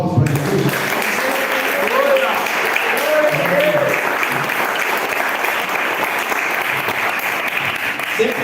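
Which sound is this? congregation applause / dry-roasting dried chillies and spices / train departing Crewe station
congregation applause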